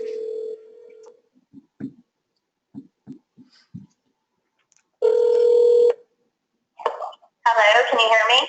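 A telephone line in use during a leader webinar call: a steady tone, then a string of short dialing beeps, another sustained tone with buzzy overtones, and finally voices talking.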